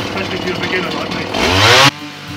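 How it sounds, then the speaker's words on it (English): A small two-stroke engine sputters and revs up, like a chainsaw, then cuts off abruptly near the end. "this is one way not to start a chainsaw"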